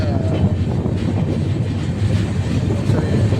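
The Kacheguda SF Express (12786, Ashokapuram to Kacheguda) runs at about 120 km/h, giving a loud, continuous roar of wheels and rushing air with steady rail rumble throughout.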